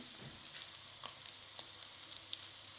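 Fish frying in a pan for coconut pasta, a steady soft sizzle with scattered small pops and crackles, fairly quiet and heard alone.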